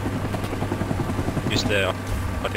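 A Cobra attack helicopter in Rising Storm 2: Vietnam drones with a steady low rotor thrum throughout, while someone talks over it and brief higher effects flicker near the end.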